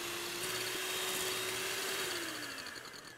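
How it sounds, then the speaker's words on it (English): An electric whisk whips egg whites for pavlova, a steady high motor whine with a rattling beater tone that shifts slightly in pitch as it runs, close and loud with no talking. "Now my weapon, and this is going to make a bit of a noise. So you whisk this until it's nice and frothy."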